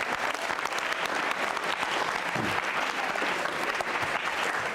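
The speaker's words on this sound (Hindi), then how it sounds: "तरंग सिंह के लिए तालियां जोरों से बजाइए।" Continuous audience applause for a quiz contestant at a school quiz show, a crowd clapping in a dense, steady wash for several seconds with a faint low voice briefly under it midway.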